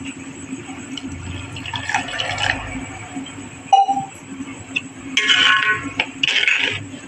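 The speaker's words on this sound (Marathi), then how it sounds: "थोडं पाणी घालते कारण ते फार घट्ट होईल नाही तर" Water poured from a vessel into thick, simmering besan pitla with fenugreek leaves in a home kitchen, a brief splash and trickle followed by clinks of a metal utensil against the pan, close and moderately loud.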